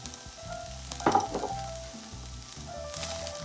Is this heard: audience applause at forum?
no